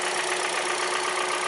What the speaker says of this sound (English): that tapping noise is called piston slap